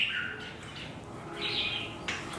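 A two-month-old juvenile songbird gives a few short, high chirps spaced across a couple of seconds, fairly faint against a quiet background.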